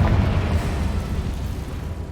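Bombarda and Confringo spell explosions from Hogwarts Legacy on PS5 land as a deep, rumbling boom that hits hard at the start, then slowly fades under a low, churning roar.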